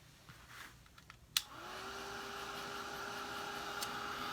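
A hair dryer clicks on to dry glue on a buffalo plaid craft rooster, then runs as a steady, close whir and blowing hiss with no voices.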